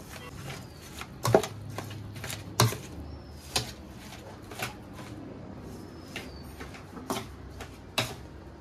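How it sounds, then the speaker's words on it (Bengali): Hot food is pressed with a potato masher, giving irregular soft thumps and taps spaced about a second apart over a quiet room background. "গরম আছে, আমি তাই স্ম্যাশারটা দিয়ে স্ম্যাশ করছি।"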